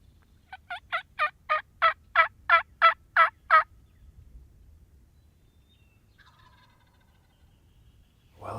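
A wild turkey gobbles in a rapid run of about ten evenly spaced calls, clear but somewhat distant across a Michigan field, followed by quiet with faint distant bird sounds.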